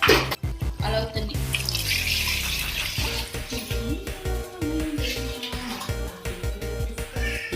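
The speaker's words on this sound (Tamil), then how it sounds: "இல்லை, நீ பாட்டு தண்ணி ஊற்றிட்டே இருக்கிற." Water pours and splashes into a pot for cooking rice, a running, gurgling flow with faint dripping that shifts in pitch as the vessel fills, with speech in the background.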